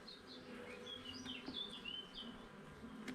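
Honeybees buzz softly throughout while an opened colony frame holding capped brood is inspected, with a faint steady hum and a few higher whines from bees flying nearby.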